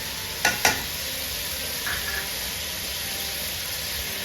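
Tomatoes and salt go into a hot pan while making beef biryani, bringing a steady sizzle of frying with two sharp clatters as they drop in, faint and unbroken throughout.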